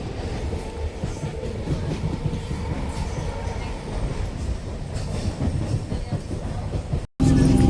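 Ride inside a moving train near Dankuni: a loud, continuous rumble with rhythmic clickety-clack and faint wheel squeal, cut by a brief gap near the end before the noise returns.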